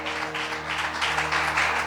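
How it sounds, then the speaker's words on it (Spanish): A church congregation applauds, a steady wash of many hands clapping at moderate volume for a couple of seconds, with no talk over it. "Dele otro aplauso al Señor."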